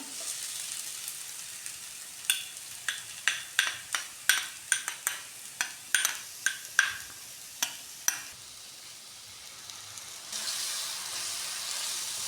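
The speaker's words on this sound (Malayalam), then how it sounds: "ഇതെല്ലാം നന്നായി മിക്സ് ചെയ്ത് കൊടുക്കാം." Ginger garlic paste masala sizzles in a frying pan while a spoon taps and scrapes through it in a quick run of sharp close strokes, then a steady frying hiss alone.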